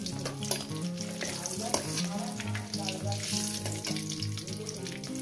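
An egg fries in oil with a loud, continuous crackling sizzle and stirring noises, over a faint tonal background.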